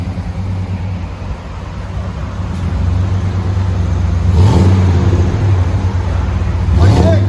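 A Chevy Silverado 5.7L V8 with aftermarket exhaust, heard from inside the cab, holds a steady low drone that swells into a louder rev midway, then a second rise near the end.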